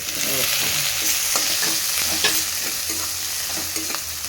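Curry leaves and green chillies fry in hot oil with a continuous crackling sizzle, punctuated by several stirring scrapes and taps.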